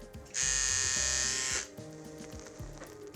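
A tattoo machine fitted with a cartridge needle runs in a short loud electric buzz for about a second, then cuts out, leaving low mechanical clicks and background hum.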